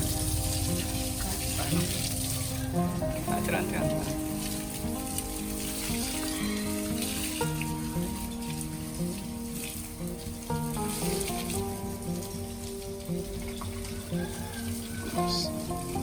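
Tap water runs in a steady, continuous splashing hiss while plants are watered at home, close and fairly loud, with a faint murmur of background sound underneath.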